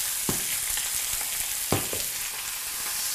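Veal flank steaks fry in butter in a pan, giving a steady close sizzle with occasional sharper crackles and pops over a few seconds.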